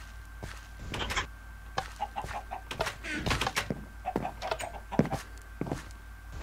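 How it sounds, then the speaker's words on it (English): Minecraft chickens cluck in short, scattered bursts across a survival game world, soft and irregular with a faint steady tone underneath. "Time to get some eggs from the chickens."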